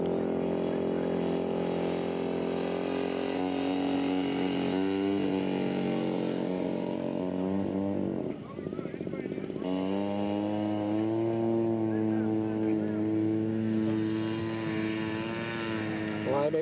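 A scale model aircraft engine drones steadily as the plane makes a crosswind landing on deep grass at an outdoor scale aircraft show. The pitch shifts partway through, then settles into a sustained buzz.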